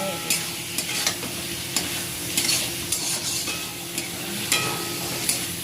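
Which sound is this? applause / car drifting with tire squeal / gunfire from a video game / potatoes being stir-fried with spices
potatoes being stir-fried with spices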